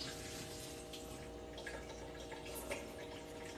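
Rinse water pours out of a pot of jasmine rice with a soft, steady trickle and splash, faint and close, with no talk.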